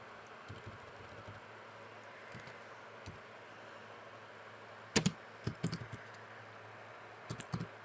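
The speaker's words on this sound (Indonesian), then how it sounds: "kita berikan penjelasan, yaitu dengan mengetik titik koma" A Sinumerik 808D CNC milling controller keyboard is typed on to enter a semicolon: sparse, quiet key clicks, with tight clusters of presses near the end and a faint mechanical hum beneath.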